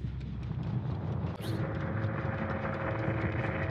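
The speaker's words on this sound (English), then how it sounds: "That sounds like an airplane." A low, steady airplane-like drone in the Dead by Daylight video game, continuous and fairly loud throughout with a faint mechanical hum layered over it and a brief sharp blip partway through.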